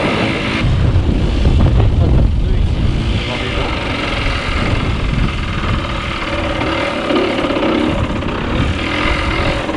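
Motorcycle fitted with a new carburetor, ridden with the throttle opened smoothly and gradually; steady, loud engine drone close up throughout, with wind rumble and a voice speaking over it.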